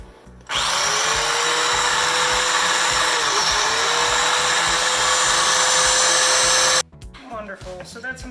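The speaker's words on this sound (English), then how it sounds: "first I'm going to run my almond meal through the food processor" A food processor grinds almond meal in one loud, steady whir lasting about six seconds, cutting off abruptly before kitchen clatter and movement return.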